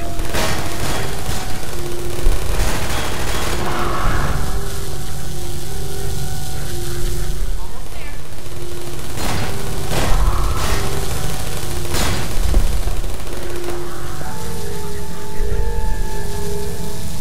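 Gunfire in the video game Half-Life 2, dense bursts of shots and booms running through the whole stretch, mixed with game sounds and tones, with no talking.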